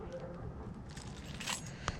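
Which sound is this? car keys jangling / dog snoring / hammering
car keys jangling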